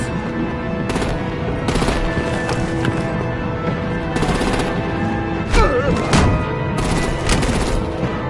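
Artillery and heavy gunfire in the Batman: The Enemy Within video game, a dense barrage of repeated loud blasts over a constant roar of battle noise, with heavier impacts bunched in the middle of the scene.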